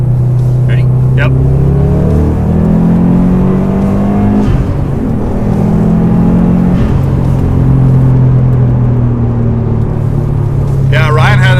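A 2006 Subaru STI's turbocharged engine with a COBB turboback exhaust roars and climbs steadily as the car accelerates hard, a loud continuous drone heard from inside, with brief voices near the end.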